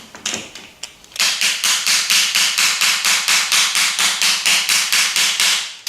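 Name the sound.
tapping to tighten a Martini Henry rifle part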